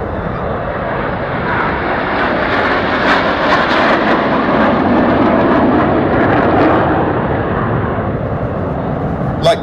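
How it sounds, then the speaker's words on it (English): Red Arrows jets flying in formation at the Perth airshow in Scotland 2009 make a loud, continuous roar that swells and holds for nearly ten seconds without letting up. "On the right-hand side are Enid, stepping down to a formation called the Goose"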